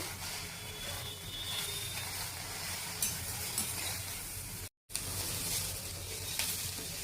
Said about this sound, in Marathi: जाडसर कट केलेलं कोबी आपण आता फ्राय करायला घेतोय लो फ्लेमवर कोबी छान फ्राय करून घ्यायचा आहे